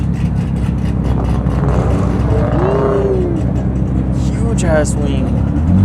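A Porsche GT3 RS idles with a steady, heavy engine drone at close range, with a rising rev partway through, while people talk nearby in a Southern California car meet.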